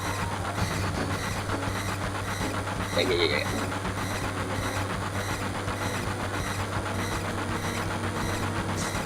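A video game train (Final Fantasy VII) rumbles along steadily with a rhythmic clatter and mechanical hum, while a voice briefly speaks over it.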